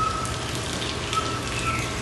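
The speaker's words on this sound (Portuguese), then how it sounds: "Acho que tá chovendo aqui, ó." Steady rain pouring in Vitória, Espírito Santo, Brazil, after a long drought, a dense even hiss of drops hitting surfaces close by, with no voices.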